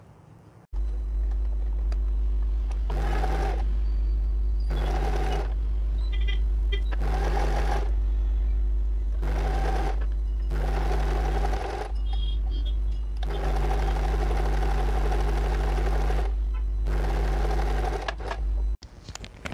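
A sewing machine stitches a folded half-inch double hem, one inch in total, along a blouse sleeve edge, running in repeated loud bursts with short pauses between them and no talking.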